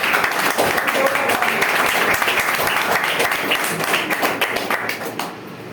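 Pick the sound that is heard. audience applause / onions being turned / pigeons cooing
audience applause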